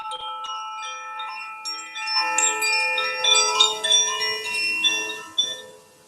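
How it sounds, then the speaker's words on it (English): Wind chimes ring out in overlapping, shimmering metallic tones that keep sounding and slowly fade, with no voices. "take a moment to listen to the chimes"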